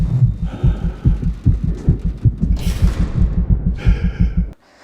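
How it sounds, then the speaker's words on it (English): A heartbeat in a movie teaser thumps in low, rhythmic pulses that speed up steadily toward a rapid pace, with breathy hum layered above before it cuts off abruptly. "We hear her heartbeat"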